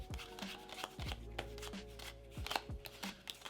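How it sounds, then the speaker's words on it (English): A deck of playing cards cut and mixed by hand, a run of soft riffling and brisk tapping strokes close up, quiet and steady with no voices. "And then we can give the deck a couple of cuts, because why not? Just like this. We could even mix it up like so."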